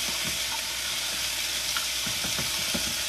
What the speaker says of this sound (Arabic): عقبال ما الباميه عندي تتشوح